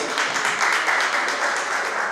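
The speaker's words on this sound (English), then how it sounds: "a round of applause for our president" A crowd applauds a president's speech at a 2018 Yoruba Day cultural celebration: dense, steady clapping that fills the whole short stretch at an even level, with no voices standing out.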